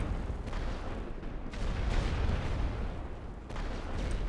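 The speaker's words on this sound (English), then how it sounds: "Hide from the creeping barrage." A creeping artillery barrage in a World War 1 strategy video game, heard as a dense, continuous low rumble of shelling with a few heavier booms rising out of it.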